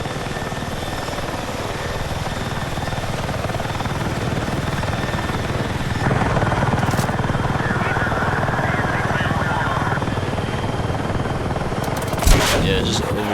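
Steady helicopter rotor drone from Battlefield 6 fills the scene with dense noise, punctuated by a sharp gunshot-like crack near the end.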